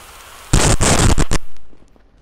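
A missile explodes in inFAMOUS Second Son with a loud, close, crackling blast that breaks into several rapid bursts over about a second, then drops away to quiet.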